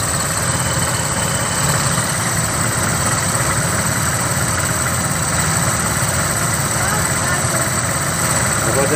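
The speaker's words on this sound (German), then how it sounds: "Der schlackert richtig, der Keilriemen." A vehicle engine idles with a loose, flapping V-belt, a steady loud close drone with a fine rapid flutter running through it, while voices speak over it now and then.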